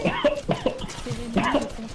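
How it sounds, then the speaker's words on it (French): A few harsh coughs burst out close by, with a voice heard between them. "Pourquoi tu tousses comme un chien?"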